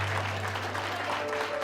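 A church congregation at a Hindi-language service claps together in a dense, continuous burst of applause that fills the room.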